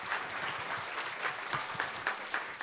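Applause from a seated audience at a Korean social-value conference showcase, honoring three presenters: a dense, steady patter of many hands clapping, moderately loud and continuous throughout.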